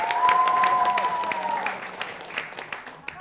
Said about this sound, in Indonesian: Tepuk tangan dari semua yang ada di studio.